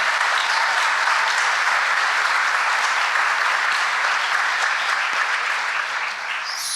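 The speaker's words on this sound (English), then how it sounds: "Can we please give a round of applause for all of the awards received so far?" Steady, dense applause from a large audience honoring student award recipients at a school honors and awards ceremony, sustained at even loudness throughout with no talk over it.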